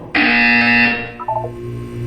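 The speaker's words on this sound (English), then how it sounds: "When you hear the buzzer, look down at the floor." A loud electronic buzzer in the video game Portal 2 sounds alone for about a second, a sustained bright tone, then drops into a few short lower beeps over a steady hum.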